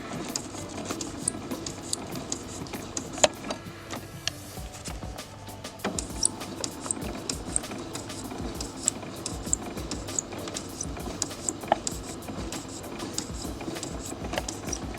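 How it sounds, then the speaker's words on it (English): Sewing machine running at its slowest speed, a soft, even stitching chatter with small clicks, steady throughout and briefly dipping in the middle, with no talking. "remember my machine is moving at its slowest pace."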